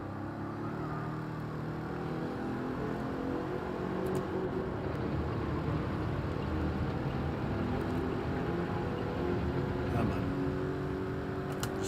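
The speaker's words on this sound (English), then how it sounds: "Rev the heck out of 4th gear and shift up" Car engine in Gran Turismo 7 held in fourth gear during a lap time challenge, a loud steady drone with rising harmonic bands as revs build, voices partly over it.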